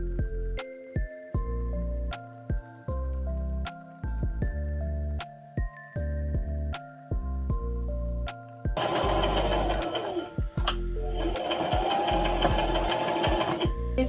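A sewing machine stitches a fursuit base in bursts of fast, even mechanical clatter, starting and stopping close by before a longer continuous run with rustling fabric underneath.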